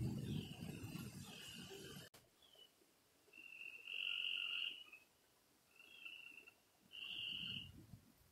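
Frogs croak by the Edisto River at night in a few drawn-out, rising calls, moderately close, over faint insect hum. The clip opens with a brief low rumble.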